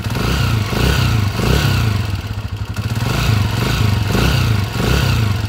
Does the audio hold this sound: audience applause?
no